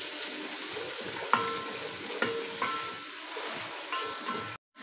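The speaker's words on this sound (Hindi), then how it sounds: "प्याज को इतना कुक करना है कि बस ये सॉफ्ट हो जाए, कलर चेंज हो जाए, इसका कच्चापन खत्म हो जाए।" Chopped onions softening in oil in a pan, a soft continuous sizzle with a few sharp clinks of a spoon stirring against the pan, fairly quiet and close.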